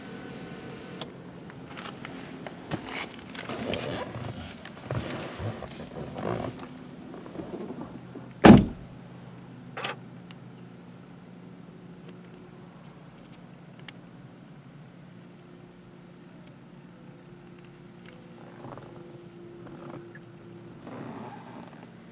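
Door and cabin thuds inside a 2018 Volkswagen Passat GT, with a sharp loud bang partway through followed by a steady low idle hum once the engine is started, all without talk.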